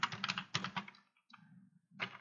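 Bursts of quick keystrokes on a computer keyboard as code is entered, close and clear, with short pauses between flurries of typing.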